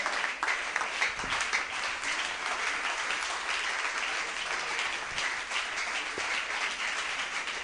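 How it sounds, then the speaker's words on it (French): A church congregation applauds at a Pentecost service, a steady unbroken wash of many hands clapping at even loudness throughout, with no voices rising above it. "Continuez d'acclamer l'église, s'il vous plaît."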